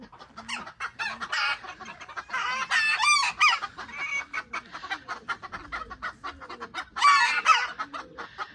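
Several chickens cluck and squawk in overlapping bursts nearby, with a couple of sharper calls standing out among the steady clucking.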